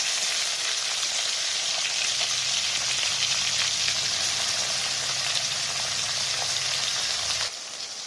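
Garlic and tomato are frying in hot oil with mustard seeds in a pan, a loud, dense sizzle that keeps going close by. It drops off abruptly near the end.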